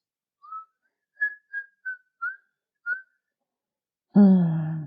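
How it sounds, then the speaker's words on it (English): A person whistles a short tune of six clear, separate notes, then a voice starts to speak at the end. "you should not whistle at night because you are inviting evil spirits."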